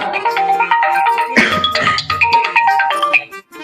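A telephone ringtone plays while a call is being placed, a bright melodic electronic tune with repeating tonal notes, loud and close, running steadily with no talk over it.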